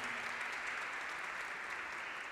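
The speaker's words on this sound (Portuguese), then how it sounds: "palmas." An audience at a formal ceremonial session claps continuously, a dense, even applause at moderate distance with no break.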